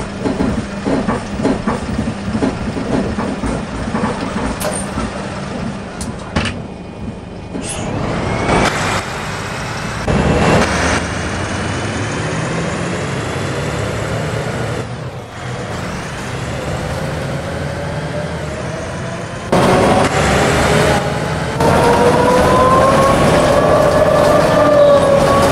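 MAN NL 202 city bus driving in the OMSI 2 simulator: a steady diesel engine drone and road rumble for the whole stretch, with gear changes, swelling revs and a rising whine as the bus pulls away and speeds up.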